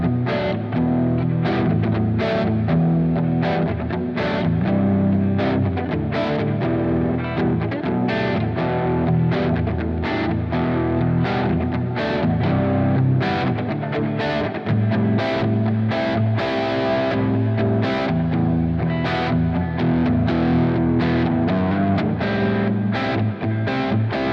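A distorted electric guitar lead setting through a Positive Grid Spark Mini amp plays a sustained lead line with chorus-like shimmer, loud and continuous for the whole stretch with no talking.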